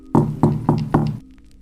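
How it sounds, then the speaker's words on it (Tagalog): Four firm knocks on a door in an even, evenly spaced rhythm, loud and close, followed by quiet. "Hanggang sa may kumatok."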